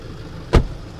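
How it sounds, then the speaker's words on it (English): A Tata Hexa car door slams shut with one solid, deep thud, close by and loud against a quiet background. "You know, like the door, the way it shuts."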